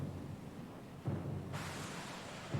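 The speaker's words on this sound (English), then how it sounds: "The storm's pretty loud." Stormy sea ambience in Pillars of Eternity: Deadfire: a dull rumble of thunder and rolling surf under steady wind and rain hiss, faint and continuous with a couple of low booms.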